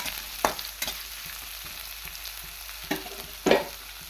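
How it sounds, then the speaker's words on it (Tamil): Onions sautéing in a pan for drumstick poriyal, a soft steady sizzle broken by several sharp scraping stirs of a spatula, close and clear with no talking. "பார்த்திங்கன்னா வெங்காயம் நல்லா வதங்குது"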